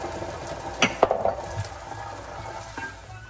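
A cup of red wine poured into a simmering sauce with osso buco, a bubbling sizzle with a few sharp clinks and stirring clatters from a pan, close and fairly loud.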